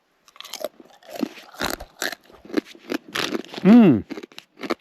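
Pork scratchings crunched between the teeth, a string of sharp, close crisp bites and chewing crackles spread across a few seconds, with one brief voiced sound near the end.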